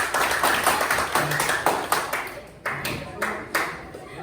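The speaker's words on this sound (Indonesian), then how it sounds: "Kasih tepuk tangan dulu buat kami." A classroom group claps after a student presentation: scattered, uneven hand claps in bursts, moderately near, with voices talking over them.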